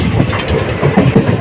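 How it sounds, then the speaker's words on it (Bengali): A passenger train pulls out of New Cooch Behar station, its wheels beating a rhythmic clickety-clack over the rails beneath a loud rolling rumble, heard close from on board. "তো গাইস আমাদের ট্রেনটা নিউ কুচবিহার থেকে ছেড়ে দিল।"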